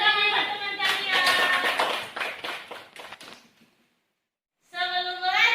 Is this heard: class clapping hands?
yes